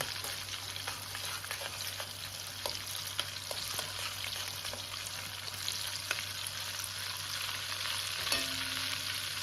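Banana slices frying in hot oil over slow-medium heat, a steady close crackling sizzle with scattered pops and occasional stirring scrapes, no voices.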